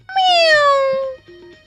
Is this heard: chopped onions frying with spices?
no